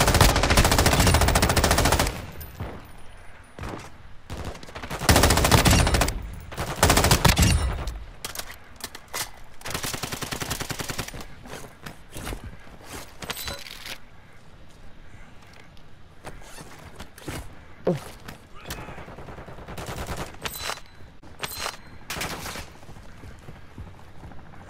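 Automatic gunfire in the Call of Duty DMZ video game, loud bursts of rapid shots early on, followed by scattered sharper single shots and shorter volleys at varying distances.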